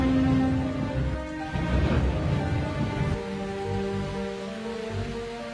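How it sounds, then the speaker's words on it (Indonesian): Steady rain hisses with a low rumble of thunder beneath, while a sustained musical tone hums throughout the storm. "Kilat menyambar dan suara petir bergema di istana."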